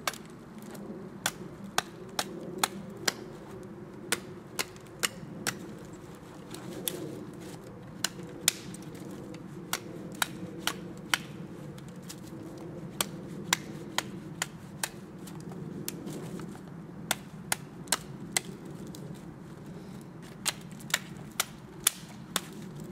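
A light hatchet or machete chops wood, giving a long run of sharp, irregular cracks and knocks over a steady low background rumble, with no talk.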